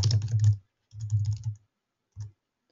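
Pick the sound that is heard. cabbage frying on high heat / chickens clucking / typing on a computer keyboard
typing on a computer keyboard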